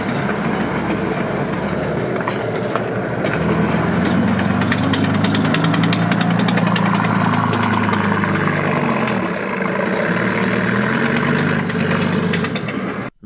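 Soviet T-34 tank's engine idling, a heavy low rumble that swells slightly partway through and holds steady, loud and close, ending abruptly.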